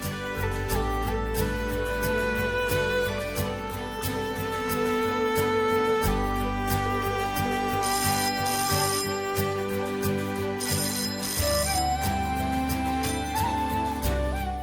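A mobile phone plays a musical ringback tune while an outgoing call connects, continuous and fairly loud for the whole stretch, with no talk over it.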